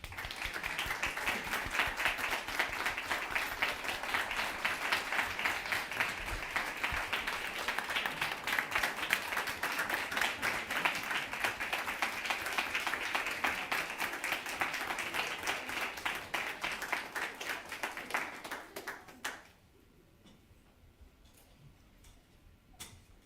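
Audience applause at a school district board meeting honoring departing members, sustained dense clapping at moderate distance for about nineteen seconds before stopping abruptly, leaving quiet room tone with a few faint sounds.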